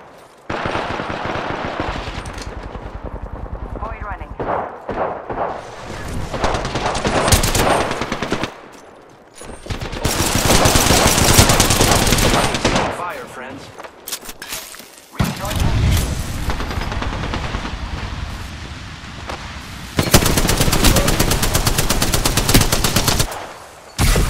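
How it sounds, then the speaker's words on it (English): Automatic and single-shot gunfire in the video game Apex Legends, loud bursts of rapid fire and booms coming in waves across the clip with brief lulls between engagements. "Getting shot at."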